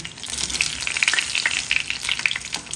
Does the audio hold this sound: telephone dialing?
no